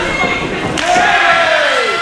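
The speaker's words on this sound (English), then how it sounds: "you can hear this crowd get behind every strike that Tony Booze lands on Chris Steeler" Wrestling crowd cheering strikes during a championship match at an anniversary show, a loud roar from a packed audience with a sharp slam of impact and a rising chorus of voices.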